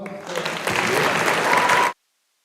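An audience at a high school awards ceremony bursts into steady, full applause for about two seconds before it cuts off abruptly.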